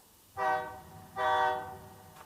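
A train horn sounds two long, loud blasts, followed by the start of a third, near a rail crossing; the tones are rich and steady over a low rumble, with no voices.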